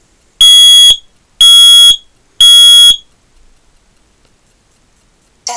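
A Nest smoke detector sounds its alarm during a smoke self-test: three loud, piercing electronic beeps of equal length at a steady one-second rhythm, then silence, heard close with no talking.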